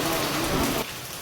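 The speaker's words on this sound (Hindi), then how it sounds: "देखिए कितनी तेज बारिश पड़ रही है।" Heavy rain pours down at a Shiva temple, Shri Shyameshwar Mahadev in Chhapkoli, Hapur, a dense loud roar of drops that suddenly drops to a softer hiss near the end.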